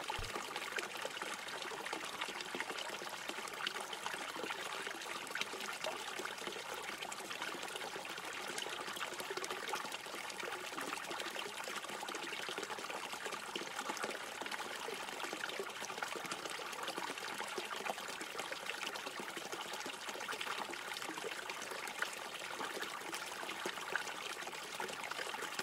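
A fountain's water trickles steadily and softly, a continuous gentle splashing flow with no other sounds over it.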